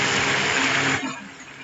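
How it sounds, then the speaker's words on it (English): A stick blender whirs loudly while mixing cold-process soap batter toward light trace, then cuts off after about a second, leaving a softer tail of noise. "I'm going to go ahead and stick blend this until we get it to a light trace."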